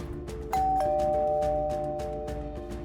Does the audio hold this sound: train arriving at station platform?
no